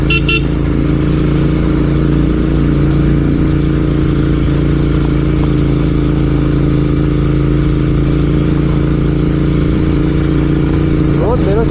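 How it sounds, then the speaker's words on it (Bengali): A Royal Enfield Continental GT 650 with an RRP exhaust drones steadily and loudly throughout, a constant low exhaust rumble with road noise, and a brief higher tone near the end. "আর জিটির গর্জন তো শুনতেই পাচ্ছ কীরকম দিচ্ছে এক্সজস্ট থেকে জিটির সাউন্ড"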